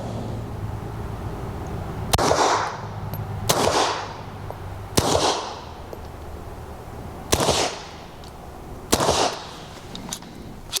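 Beretta 84 BB pistol fitted with a CGS Mod9 SK suppressor fires five sharp shots in an uneven rhythm, each a crisp crack with a short hiss trailing after it, close to the microphone and heard alone.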